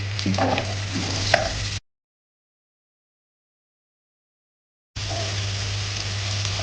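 Butter with garlic and ginger frying in a pan for chicken curry, a close, steady sizzle with a stirring clink, cut by a long stretch of silence before the sizzling resumes.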